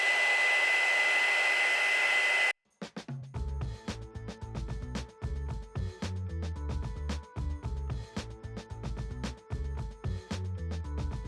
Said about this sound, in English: here we go again with the heat gun